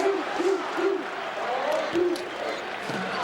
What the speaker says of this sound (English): The crowd is responding to a beach ball